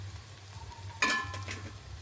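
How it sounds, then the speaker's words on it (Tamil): Ginger garlic paste drops into a pan of frying onions and chillies, setting off a short, soft sizzle burst over a low background hiss. "இதோட நான் இடித்து வச்சுருக்க இஞ்சி பூண்டு பேஸ்ட்டை சேர்க்கிறேன்."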